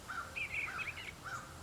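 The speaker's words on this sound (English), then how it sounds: "Let me see if I see that bluebird again." A bluebird calls near birdhouses in a garden, giving a few short, clear chirps in quick bursts, moderately close and alone with no other sounds over them.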